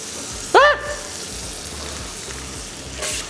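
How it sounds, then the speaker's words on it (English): Onions dropped into browned butter in a hot pan set off a sustained, close hiss of sizzling that runs steadily throughout, with a brief whistling tone near the start. "Right, so then onions in."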